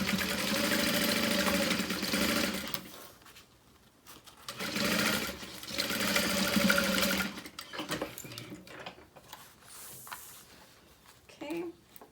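A domestic sewing machine runs two steady bursts stitching a 1/8 to 1/4 inch seam on a fabric wristlet, each lasting a few seconds with a pause between, followed by quieter handling noises.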